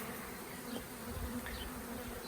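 A honey bee swarm clings to a tree, giving off a steady, low, continuous buzz of many wings that holds at an even level throughout.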